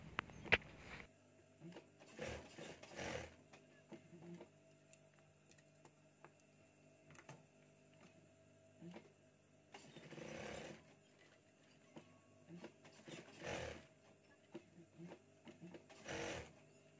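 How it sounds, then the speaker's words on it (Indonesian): Sewing machine stitching a double row of topstitching on the pocket flap of a lined jacket, in short bursts of rapid mechanical whirring separated by quiet pauses. "Selanjutnya kita tiban jahitan untuk tutup sakunya ya teman-teman."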